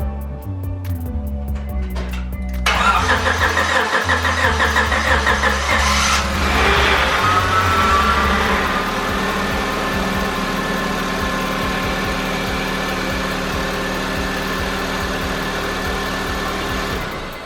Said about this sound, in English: So let's see what it does, see if it starts, see if this engine is good or whatnot.